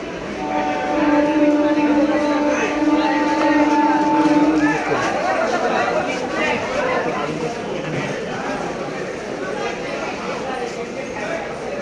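A loud train horn sounds steadily for several seconds, then fades into rumbling rail noise and the chatter of a crowd nearby.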